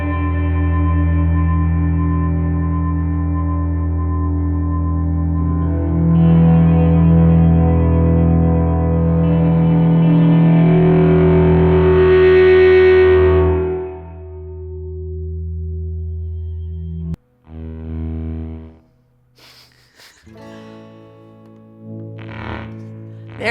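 Guitar played through an OBNE Black Fountain Stereo delay pedal rings out in long, smeared repeats that swell and get darker and softer as the tone is mellowed, then a few sparse plucked notes echo near the end; no voices.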